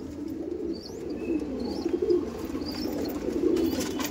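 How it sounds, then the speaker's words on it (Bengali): A male and female pair of Madras pigeons coo in low, steady, throaty tones, close and continuous, with a few faint higher chirps from other birds nearby. "এটা ছিল নর পায়রা আর এটা ছিল মাদি পায়রা"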